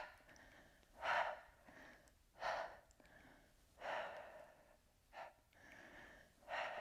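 Forceful exhalations during an abdominal workout with twisting movements, five sharp breathy bursts spaced about a second apart, close and clear over a quiet background.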